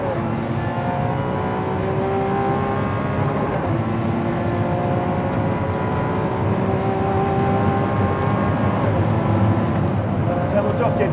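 Lamborghini Centenario V12 engine and exhaust heard from inside the cabin, a dense continuous roar with rising and falling revs, loud and close throughout.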